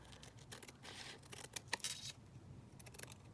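Scissors snipping through 12 x 12 patterned paper board, a few quick, quiet close cuts with soft rustling of the sheet, no voices.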